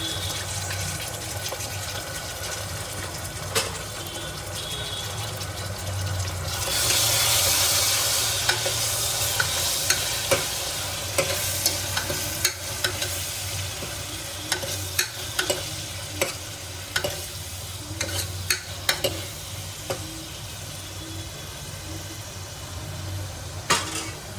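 Ginger, garlic, chilli and coriander paste sizzles loudly in a pan with curry leaves for Malvani mutton rassa, a burst of frying hiss as it goes in, then steady frying with repeated sharp stirring clicks.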